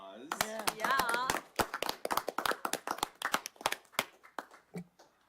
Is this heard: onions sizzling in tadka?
no